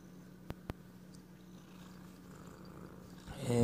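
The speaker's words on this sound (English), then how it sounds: "my cat wants to be on the video" A cat purrs softly and steadily close by, with a low rumbling hum, two sharp taps near the start and a louder rustle at the end.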